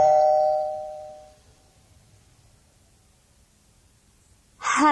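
An answering machine plays a short electronic tone that rings out and decays into near silence before a voice begins at the very end.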